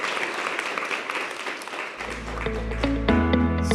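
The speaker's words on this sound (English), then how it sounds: "join me by a big applaud for our panelists before we go into the next one" A workshop audience applauds its panelists, dense clapping for about two seconds before a low tone and then steady music come in under the fading applause.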